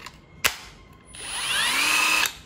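A Milwaukee M12 FUEL hammer drill gives a sharp click, then spins up into a steady, close high-pitched whine lasting about a second before stopping.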